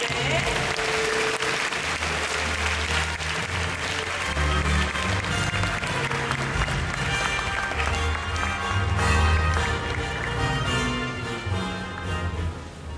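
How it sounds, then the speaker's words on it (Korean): An audience at a Korean broadcasting awards ceremony gives sustained, dense applause that welcomes the presenters and keeps going for the whole stretch without a break. "여러분 박수로 환영해 주시기 바랍니다."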